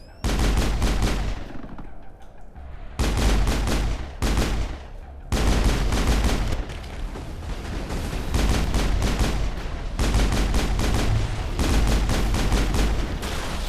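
Rapid bursts of gunfire in the video game Mass Effect, loud and close, with long sustained volleys broken by brief pauses across the whole stretch.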